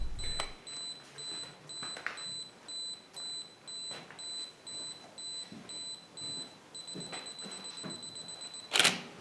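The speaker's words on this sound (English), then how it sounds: "continuous shooting, which will take pictures continually while the button is pressed, shooting around 4 per second" A camera fires in continuous shooting mode at about four frames per second, a regular train of soft shutter clicks over a faint steady electronic tone, ending with a brighter burst.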